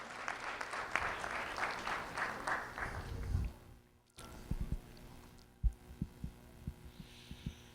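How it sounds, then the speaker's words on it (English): Audience applause for an honoree at a youth recognition ceremony, clapping for the first few seconds before fading into quieter room noise with scattered soft thumps. "A round of applause for Yahira Gomez-Santiago, please"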